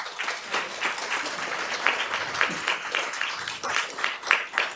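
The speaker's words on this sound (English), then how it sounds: "Can we also have a round of applause for the Community Life and Wellness team for a" An audience at a senior community Active Aging Week event claps steadily in a dense, sustained round of applause filling the room.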